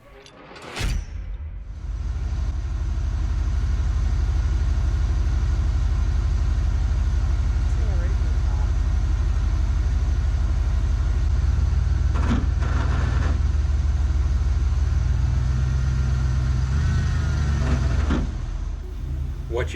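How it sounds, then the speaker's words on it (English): Engine of a second-generation Ram rock crawler truck with new axles and suspension, with the transfer case not fully engaged, idles in a loud, steady low rumble for the whole stretch, broken by brief metallic clinks and knocks near the start and in the middle. "What you just heard was the transfer case not fully being engaged."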